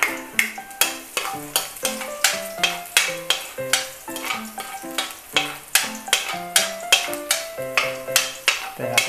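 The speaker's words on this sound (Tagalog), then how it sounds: "Tayo natin mag golden brown itong ating bawang." Garlic stirred and frying in a pan until golden, with steady sizzling and repeated scraping stir strokes in a regular rhythm, close and fairly loud, no talking.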